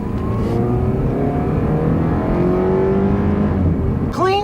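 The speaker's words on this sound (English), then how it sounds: "Clean sounding engine, smooth shift." A four-cylinder car engine revs up steadily as it accelerates, loud and close from inside the vehicle, its pitch climbing through a gear change.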